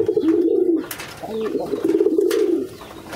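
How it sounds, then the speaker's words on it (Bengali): Pigeons at a shared feeding spot coo close by in low, throaty, rolling phrases, broken by brief wing flutters and scuffles. "এক জায়গাতে খাবার দিলে একটার সাথে একটা কি মারামারি করে কবুতরগুলো।"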